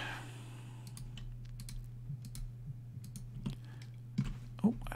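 Computer keyboard typing while a 3D-printed multi-cavity mold is being designed, with scattered key clicks at close range, some sharper taps near the end, and a steady low hum underneath.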